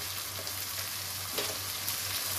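Masala for pumpkin sabzi frying in a pan, a faint, even sizzle with occasional soft stirring scrapes, close but quiet, with a low steady hum beneath.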